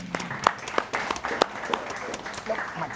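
Audience at a networking and knowledge event claps together in a short, fairly loud burst of applause lasting a few seconds, with individual hand claps standing out.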